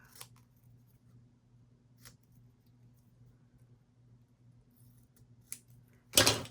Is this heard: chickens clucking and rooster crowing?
no